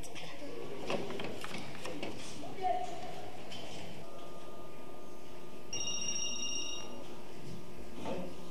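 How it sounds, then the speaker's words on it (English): Pagers beep over a background murmur of voices in a busy high school classroom, with a steady tone followed by a brief burst of higher beeps. "Nearly half the students carry beepers around with them. They can often be heard going off in the classrooms."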